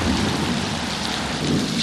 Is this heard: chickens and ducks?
no